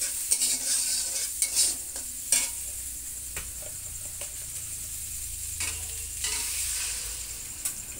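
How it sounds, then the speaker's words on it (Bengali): Small puti fish fry in a pan with a steady, close sizzle throughout, while occasional clinks and scrapes of stirring break in along the way. "পুঁটি মাছগুলো সুন্দর করে ভাজা করে নিচ্ছি।"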